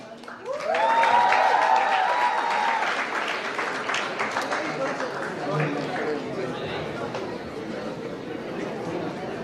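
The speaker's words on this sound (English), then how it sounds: "Give a huge round of applause for the entire team of Backstage." An audience at a stage launch event applauds loudly with dense clapping and cheering. An amplified voice rings out over the start, and the clapping stays steady and fills the room to the end.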